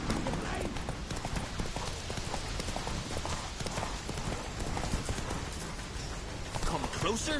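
Roach, a horse in a PS4 video game, gallops in rapid steady hoofbeats that run loud and close throughout, with game sounds and voices layered on top.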